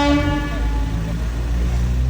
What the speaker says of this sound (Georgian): ამოდის მატარებელი